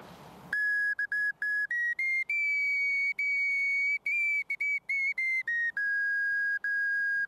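A bright Ukrainian folk whistle plays a lively tune alone, with clear sustained notes broken by quick articulated breaks, close and loud.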